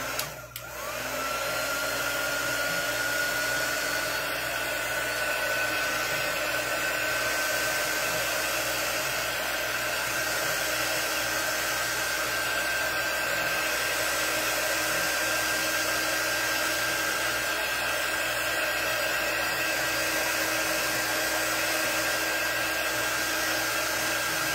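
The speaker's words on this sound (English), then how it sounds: "I'm going to dry this a little bit so it might get a little loud" A dryer blows steadily to dry a freshly applied craft transfer, giving a loud, continuous airy whoosh with a faint whine that holds unchanged for about twenty-five seconds after a brief start.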